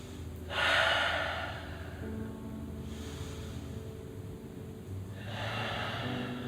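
Slow, audible breaths during a gentle supine yoga twist, two long exhales rising and fading alone over a low steady background hum.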